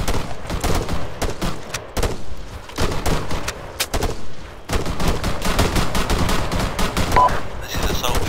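Automatic gunfire in a combat video game, with a squad suppressing enemies holed up in buildings: loud, dense, continuous bursts of rapid shots that barely pause, with voices faintly underneath.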